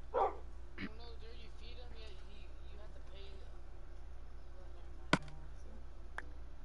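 Tamed dog in Minecraft PlayStation 4 Edition, giving one short bark at the start, followed by a quiet stretch with a steady low hum and a few faint clicks.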